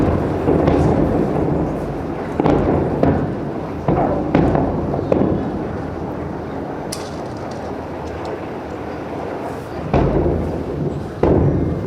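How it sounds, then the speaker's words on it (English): Explosions from a barrage of Israeli airstrikes in Gaza, heard as a series of heavy, booming thuds at irregular intervals, some close together, over a constant rumbling background. "The earth shakes in Gaza as it has so many times before under a barrage of Israeli airstrikes."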